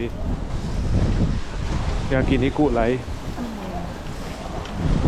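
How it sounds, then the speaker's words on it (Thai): Strong gusts buffet the microphone on a street in Asakusa, Tokyo, a steady roaring rumble throughout, with someone speaking over it near the middle. "โอ้โหลมแรง มาก"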